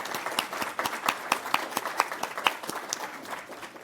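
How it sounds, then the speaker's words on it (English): Audience at an awards ceremony claps for a community housing association, a modest scattering of distinct individual claps with a sparse, uneven rhythm, fairly quiet and moderately close. "a round of applause for the Cape Breton Community Housing Association"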